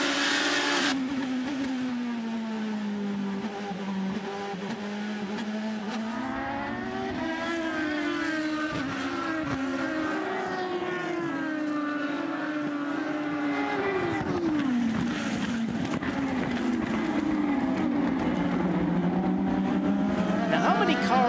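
IndyCar race cars at Barber Motorsports Park during the 2010 Grand Prix of Alabama roar through a restart, engines rising and falling in pitch as cars pass one after another, with a voice faintly audible under the noise.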